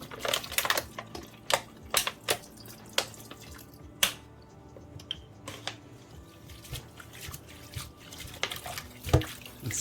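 Sea moss rinsed with bottled water in a kitchen: scattered drips, splashes and light tapping clicks come close by in an irregular rhythm, fairly quiet and with no talking.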